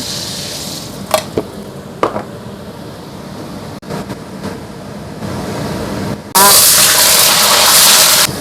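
Fish dropped into hot cooking oil in a home kitchen bursts into loud, steady sizzling after a few clinks and taps of utensils, close and dominating the end of the moment.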